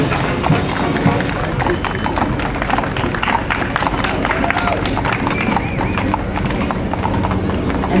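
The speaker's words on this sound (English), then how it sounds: "these must be German horses because they have left nothing behind" Horses walk in a New York City parade, their hooves clip-clopping in a dense, continuous rhythm on the street, with crowd noise and talk mixed in and an occasional whinny.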